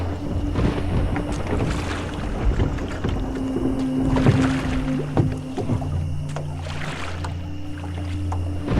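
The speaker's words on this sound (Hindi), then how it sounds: "तेज तेज चप्पू चलाने लगा" Water sloshes and splashes in a steady rhythm as oars row a small boat along a river at night, with a low hum and wind noise underneath; no voices.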